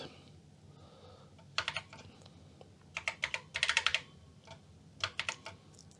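Someone typing a short BASIC program on an Apple IIe computer keyboard, with quick bursts of close, crisp key clicks separated by brief pauses.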